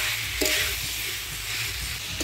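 Potato and cauliflower being fried and stirred with spices in a pan, a soft continuous sizzle with a few light scrapes of the spatula, fairly quiet and close, no talking.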